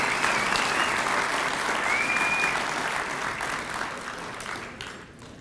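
An audience at a Rotary Foundation induction event gives a sustained round of applause, dense clapping that fills the room and slowly fades toward the end.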